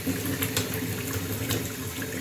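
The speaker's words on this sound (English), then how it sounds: "is you just turn the tap on flat out." A tap turned on fully gushes water in a steady, loud hiss with splashing, continuous and close, during a job reseating a leaking tap; no one speaks.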